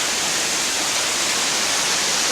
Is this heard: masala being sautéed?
no